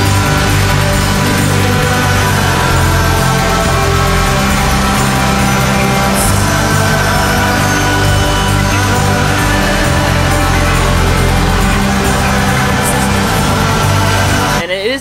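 A dense, noisy yet melodic shoegaze-style song plays loud and continuous throughout, a wall of distorted guitar and sound with no one talking over it.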